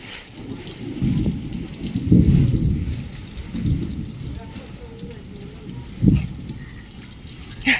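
Rain falls on a rooftop with heavy rumbles of thunder rolling in at intervals, loud and close, while people are present on the roof.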